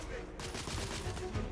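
Rapid gunfire rattles in The Order: 1886 video game, a dense fusillade of overlapping bursts that is loud and close and keeps going without a break.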